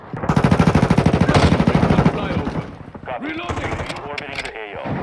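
A fast, evenly spaced machine gun burst from Modern Warfare 2 rattles loudly for about two seconds, followed by someone talking over quieter game sounds.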